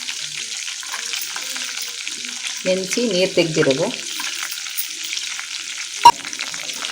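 Soaked chana dal sizzles steadily in hot oil as a Kannada tempering is fried in a pan, with a brief burst of speech partway through and a sharp clink near the end.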